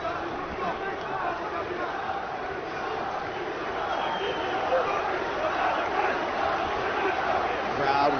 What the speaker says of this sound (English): Crowd once again vocal in its support of Islam Makhachev.